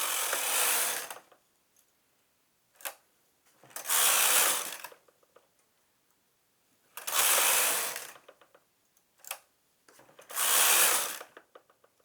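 A knitting machine retracts its buttonhole needles in repeated loud, hissing mechanical sweeps of about a second each, with short clicks between the passes and near silence in the gaps.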